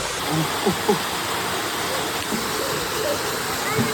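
Cold spring water flows in a steady, broad rushing wash, close and continuous, with faint voices talking briefly under it.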